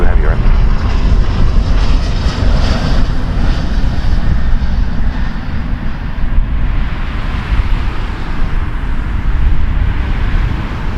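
A small business jet passes overhead at Toronto Pearson Airport, a loud, steady engine roar and rush filling the whole stretch, heavy with wind buffeting on the microphone.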